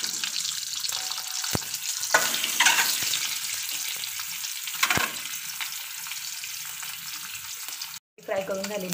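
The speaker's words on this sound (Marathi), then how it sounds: "आता अंडी फ्राय केली की आपण ह्याला सेट करूया बिर्याणीला." Masala-coated eggs frying in a pan for egg biryani, a close sizzle with a few stirring scrapes and clicks, ending in a brief break and a softer clatter.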